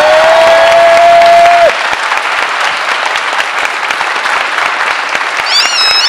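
A studio audience at a French quiz show applauds the guest team, a thick, steady wash of clapping that continues throughout, with a brief sustained tone at the start and short jingle notes near the end.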